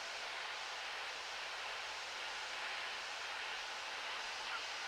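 A Cessna 152 engine drones steadily in level flight at 2300 RPM over Halfpenny Green, a constant loud broadband roar filling the cabin with no breaks.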